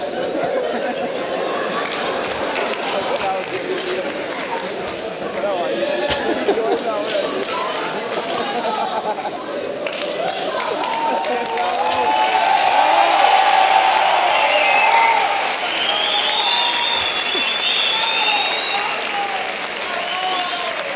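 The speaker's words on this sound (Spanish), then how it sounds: "No aplaudáis mucho tampoco, que luego se crece y tenemos problemas." Studio audience applause on a comedy talk show: dense, steady clapping from a large nearby crowd that swells midway, with someone speaking over it.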